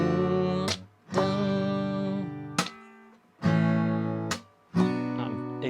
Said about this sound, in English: I'm kind of slapping the strings